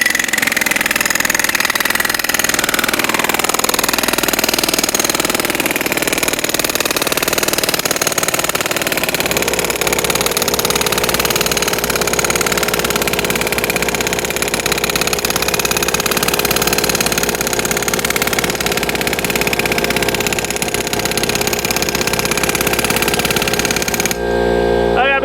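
An air compressor engine runs steadily and loudly nearby while an auger tie-down anchor is driven into the ground, a constant mechanical drone that shifts in pitch partway through and cuts off abruptly at the end.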